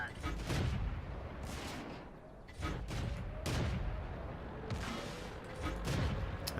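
Tank cannon shots in the World of Tanks video game boom out repeatedly, about five heavy blasts spaced a second or so apart, each with a rumbling decay, under a quiet game backdrop.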